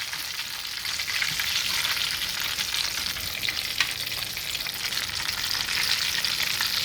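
Chicken wings seasoned with cayenne, lemon pepper and garlic frying in hot oil, a dense, steady crackling sizzle close up that holds constant with no talk.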